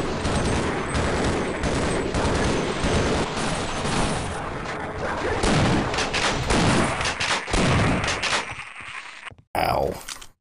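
Gunfire from Half-Life: Opposing Force, a loud, sustained burst of rapid shots and impacts filling the scene, cutting off abruptly near the end followed by a brief final blast.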